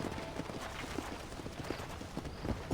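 Horse hooves clip-clopping in the Western video game Red Dead Redemption, a steady trotting rhythm of repeated hoof strikes close by over a faint ambient background, with no talk.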